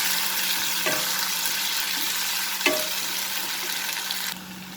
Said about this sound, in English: So here is our onion cooked. We will add the ginger garlic paste. We will just mix it a little bit.